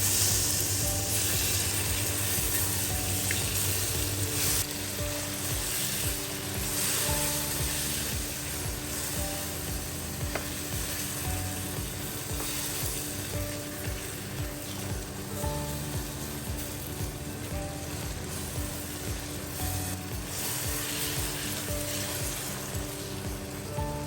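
Chopped tomatoes sizzle steadily in a hot pan, a dense continuous frying hiss that holds at an even loudness throughout with no talk over it.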